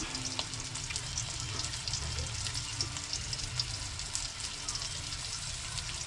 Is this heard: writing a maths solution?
no